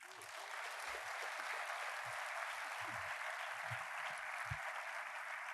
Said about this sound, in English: A thunderous round of applause.